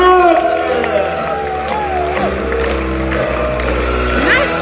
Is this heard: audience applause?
yes